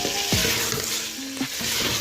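Capsicum sizzles in a hot frying pan with oil and softened carrot, a loud continuous hiss broken by a couple of scraping stirs of a spatula against the pan.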